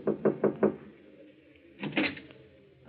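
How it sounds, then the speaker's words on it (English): Four quick, firm knocks rap on a door marked manager inside the swank Tripoli Cafe, close and distinct, followed after a pause by a brief shuffling sound. "toward a door marked manager"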